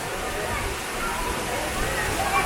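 Steady, dense rush of falling water from a waterfall in San Luis Potosi, Mexico, a continuous close roar that holds at an even level throughout with no break.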